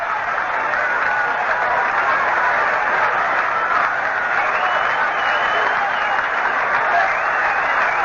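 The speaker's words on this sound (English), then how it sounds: "the crowd comes alive again" Dense, steady roar of a baseball stadium crowd cheering and applauding after a foul ball at a Yankees home game against the Angels, loud and continuous throughout.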